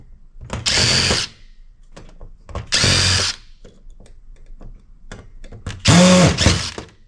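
Power drill removing screws from a Dell 9020 computer case during scrap salvage, three loud close bursts of whirring separated by quiet handling clicks, the last burst with a strained rising whine.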